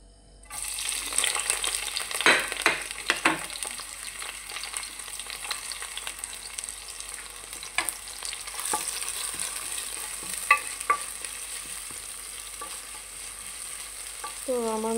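Onion frying in hot oil for a pasta dish, with a steady close sizzle and scattered scrapes and clicks of stirring running throughout, no voices.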